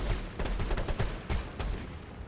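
A rapid burst of shotgun fire from an FPV drone in a video game, several sharp shots crackling close together over a noisy background, with no talking.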